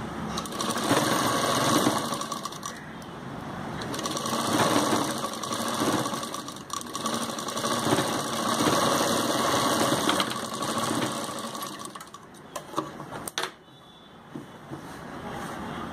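A sewing machine stitches the hem of a kameez, running in a loud close whir of rapid needle clatter with short pauses and speed changes, then stopping near the end.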